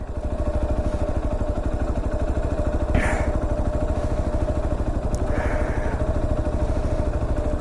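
A Hero Xpulse 200 motorcycle at the Umling La top runs at a steady idle, its close, even engine pulses thrumming without a break, with a couple of faint brief sounds over it.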